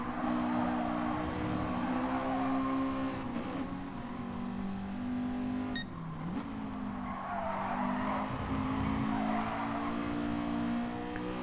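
A race car in GT Sport slides with drawn-out tire squeal over a steady engine drone, the squeal rising and bending midway as the car skids, with no talking.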